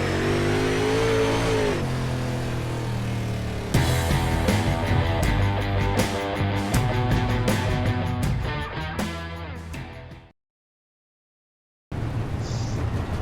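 Dirt track race cars revving as an official UMP heat race gets underway at Volusia, a loud, dense engine roar that swells and shifts pitch for about ten seconds, cuts to near silence, then returns.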